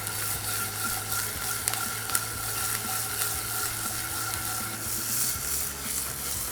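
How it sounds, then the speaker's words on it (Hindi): Onions fry with Kashmiri red chilli and curry leaves in a pan, giving a constant close sizzle with scattered stirring clicks and scrapes, steady throughout and without speech. "प्याज को 3-4 मिनट और भूनना है और प्याज के साथ साथ इसमें जाएगी ये कश्मीरी लाल मिर्च और कड़ी पत्ता।"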